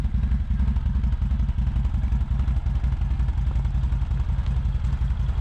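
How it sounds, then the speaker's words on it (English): A CFMoto CForce 800 XC touring ATV with a V-twin engine runs steadily nearby, a deep, continuous throbbing rumble with no talk over it. "So this is just a walk around of the CForce 800XC. Has a great sound to it."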